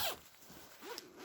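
Zipper on a swagman bedroll being run smoothly along its track during a field test, a faint, soft rasping pull with a brief, slightly louder catch near the end.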